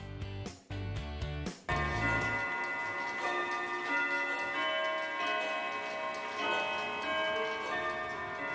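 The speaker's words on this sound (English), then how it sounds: "Ah, don't you like that sound? The sound of clocks chiming" Clocks ticking and chiming, a few sharp strikes at the start followed by a sustained ringing, layered chime tone that lingers without speech.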